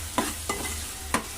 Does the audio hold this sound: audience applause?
no